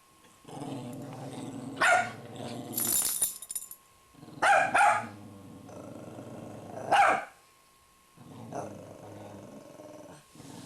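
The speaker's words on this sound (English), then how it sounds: "Sounds like he's swallowing those growls." A newborn puppy growls in low, rumbling bursts punctuated by sharp barks and yips, close by, with brief quiet gaps between outbursts.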